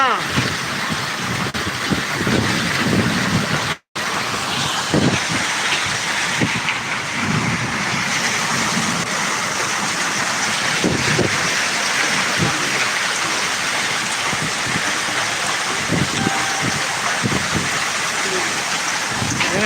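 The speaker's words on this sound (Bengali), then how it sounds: "প্রচন্ড শিলাবৃষ্টি হচ্ছে" A heavy storm with hail and wind pounds a village near Ashulia, Savar, Dhaka, giving a loud, unbroken roar of falling ice and rain with gusts, while people talk over it.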